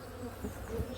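Honey bees from a strong, over-supered hive during a colony split hum in a steady, moderately close drone that holds evenly for a moment.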